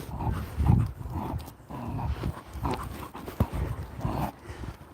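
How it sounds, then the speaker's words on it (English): Dog panting heavily and whimpering on a short lead while walking past a house where two dogs live, with rhythmic breathy pants and scuffling close to the listener, no clear barks. "So he's going to go mad because there's 2 dogs that live here."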